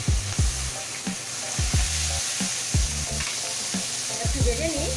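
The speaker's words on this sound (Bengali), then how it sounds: "একটু ভেজে নিই, ভেজে নিলেই এই যে ভেজে নিয়েছি রসুন আর পেঁয়াজ।" Crushed garlic and onion frying in a pan with dried chillies, bay leaf and cumin, a steady sizzle with stirring scrapes, while a low repeated thumping and a wavering tone rise and fall beneath it.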